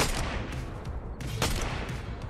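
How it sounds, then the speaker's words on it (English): Gunfire in a superpower battle video game, a rough burst of shots and distant explosive cracks layered over continuous rumbling noise, with a few sharper reports standing out. "And we got gunshots out in the distance."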